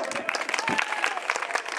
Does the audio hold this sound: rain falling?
no